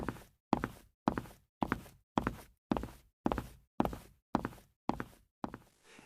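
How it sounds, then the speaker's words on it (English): Shoes strike the floor of an empty station in an even walking rhythm, about eleven distinct steps, close and crisp, with nothing else heard. "There is only the sound of her shoes on the floor."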